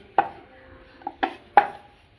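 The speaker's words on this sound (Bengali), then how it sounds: "আমি এরকমভাবে প্রত্যেকটা লেচি বেলে নিচ্ছি" A wooden rolling pin works small balls of wheat dough into flat rounds for potato-and-egg-stuffed flatbreads, giving four sharp, close knocks against the board at uneven intervals with quiet gaps between.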